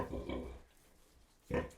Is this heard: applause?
no